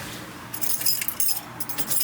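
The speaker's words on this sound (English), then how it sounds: "I remember taking the keys out." Car keys jangle close by in bright metallic bursts that begin about half a second in and repeat unevenly, during work under the hood of an LS10-engined car.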